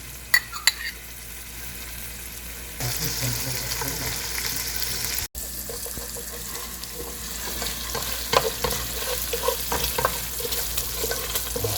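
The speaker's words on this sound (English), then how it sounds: "we're going to let them brown a little bit in the frying pan" Steady frying sizzle from vegetables browning in a pan for leek and potato soup, with occasional clinks and stirring sounds, continuous throughout and fairly close.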